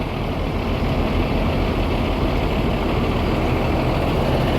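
A bus with plates from region H idles at a terminal before leaving, its engine giving a steady low diesel rumble that stays loud and close throughout, with no talk over it.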